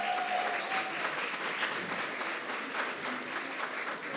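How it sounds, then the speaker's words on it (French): An audience at an eloquence tournament claps steadily for a candidate, a moderately quiet, continuous roll of applause lasting several seconds with no speech over it. "qu'on applaudit très fort."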